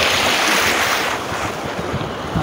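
Water rushes continuously in a river, a broad steady roar close to the microphone with some wind buffeting, no talking.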